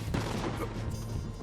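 A Pestilence gun in Borderlands 3 lets off a short, loud discharge with a sustained rumbling tail, one burst filling the whole moment.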